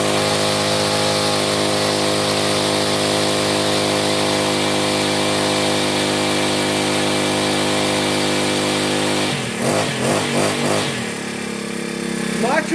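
A Toyama TBC40 four-stroke brush cutter idles steadily while warming up, a loud, close, even engine drone that wavers and shifts briefly near the end, with no talking.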